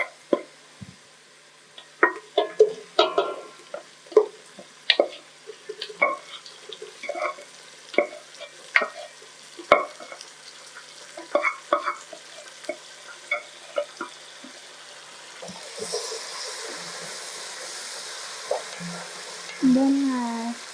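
Boiled beef frying in a pot for pilau with garlic and ginger, a steady sizzle under frequent scraping stirs of a spoon, close, the frying swelling louder toward the end.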